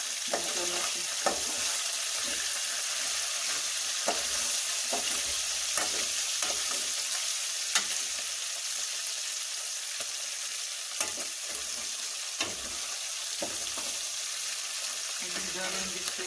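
Mutton with potato frying in oil in a pan, a continuous moderate sizzle with periodic scraping clicks from stirring running throughout.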